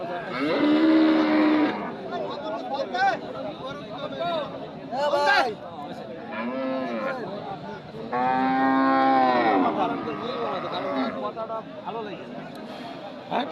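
Several cows moo in long, drawn-out calls, some close and loud, over a steady murmur of crowd voices and talk at a busy cattle market in Bamundi.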